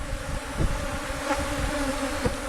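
Honeybees hum steadily around an open hive holding a newly hatched queen, a dense continuous buzz close by with small swells and no voices.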